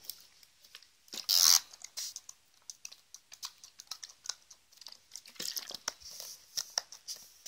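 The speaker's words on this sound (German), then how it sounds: "Dazu habe ich meine Schere dabei." Scissors, dampened beforehand, snip through hair in a home haircut, making a quick run of crisp clicks near the listener with one louder burst early on.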